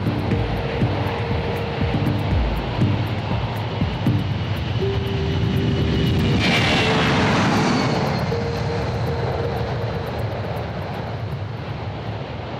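Engines of a C-17 military transport aircraft drone steadily in flight, a loud, constant roar heard from close by, with a brief swell of hiss midway and no voices.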